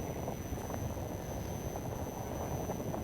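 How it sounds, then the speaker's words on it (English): Sport class racing airplane with a twin turbo racing engine flying during an air race final, a steady distant drone with broadband wind-like noise and no speech. "Listen to that engine just purring."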